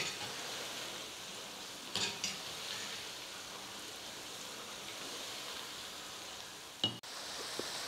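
Cabbage manchurian pieces fry in hot oil with a soft, even sizzle throughout, faint and steady, with a couple of brief clinks from a ladle stirring them.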